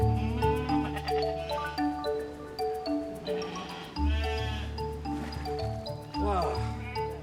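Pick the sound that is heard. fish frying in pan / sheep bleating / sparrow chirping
sheep bleating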